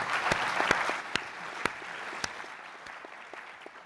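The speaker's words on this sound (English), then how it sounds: "Give her a clap." Audience clapping at a panel talk, starting as a small smattering and thinning out, with a few sharp, distinct claps standing out near the end.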